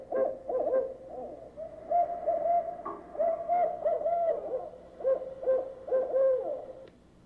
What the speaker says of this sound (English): And this is the owl that says, who cooks for you? Who cooks for you all?